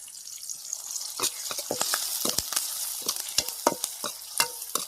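Fresh curry leaves picked from a tree hit a sizzling fish curry in a pan, sending sharp crackling pops over a steady hiss of frying oil, loud and close.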